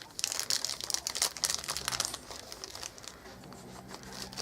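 Paper packing crinkles and rustles as miniature pieces are unboxed, with dense, busy crackling near the start that settles into softer, steady rustling toward the end.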